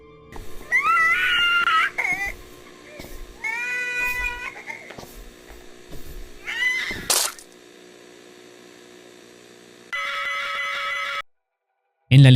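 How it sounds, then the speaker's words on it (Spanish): A young girl cries on a distorted analog horror tape. Wavering, warbly wails come in several loud bursts, then a harsh electronic tone sounds before a brief silence. "Antes de que la cinta termine, se escucha el llanto de la niña,"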